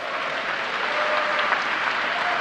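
A crowd applauds steadily in a dense, even wash of clapping, heard close and unbroken for a brief moment.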